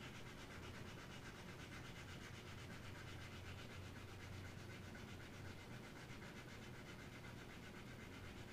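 Continuous hand sanding with coarse 100-grit sandpaper on an Opinel No.7 knife, a steady scratchy rubbing that runs on without pause, close up and even in loudness.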